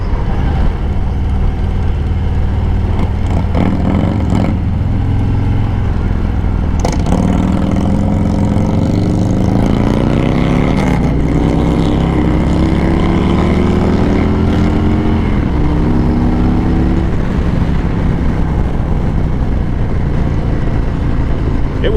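A Harley-Davidson motorcycle pulls away on a test ride, its engine note climbing in pitch as it accelerates, loud and close with steady wind rush throughout.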